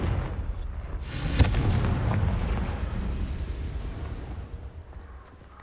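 A fire spell explosion in the video game Hogwarts Legacy, one loud booming blast that flares up sharply and then rumbles and fades away over several seconds.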